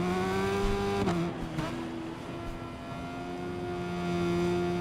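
A motorbike engine revs in the racing game Ride 5, a steady droning tone with a brief dip in pitch near the start, then holding and swelling slightly toward the end. No one speaks.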